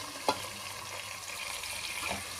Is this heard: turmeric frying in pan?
yes